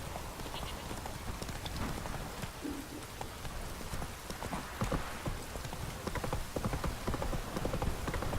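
In The Witcher 3, a ridden horse clip-clops steadily at a trot, hooves striking in a quick regular rhythm over light rain hiss, close and continuous throughout.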